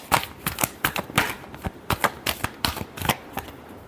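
Tarot cards being shuffled in a series of quick, crisp riffling bursts, about a dozen close flicks in an uneven rhythm with no voice over them.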